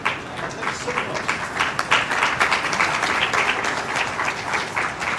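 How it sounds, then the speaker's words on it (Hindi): An audience at a Jharkhand student ceremony with the Chief Minister breaks into sustained applause, many hands clapping in a dense, even wash that stays loud throughout, with faint voices underneath. "तालियां हो आप सबकी तरफ से।"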